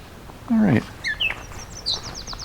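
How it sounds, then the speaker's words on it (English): A yellow warbler in a summer swamp gives bright, high chirping notes in a few quick bursts, with a lower call at the start and faint background noise between phrases. "There's a yellow warbler just saying up ahead here."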